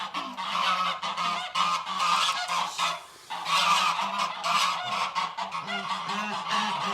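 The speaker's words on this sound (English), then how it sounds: "We have the rest of the geese, and they're quite loud." A flock of farm geese honks loudly and almost without pause, their harsh overlapping calls close by and dense, with only a brief lull partway through.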